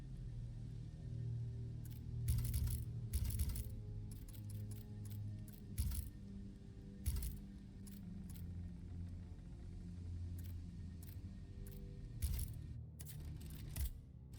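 Short bright metallic jingles from keys being collected in the video game Steelrising, several separate bursts spaced unevenly over a low steady rumble, with no talking.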